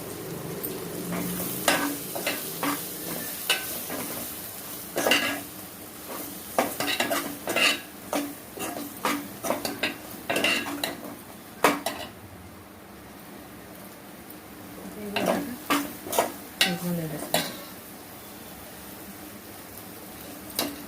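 Eggplant tamarind curry with drumsticks is stirred in a pot, a spoon scraping and clinking against the metal in irregular bursts over a faint sizzle, with quiet gaps between.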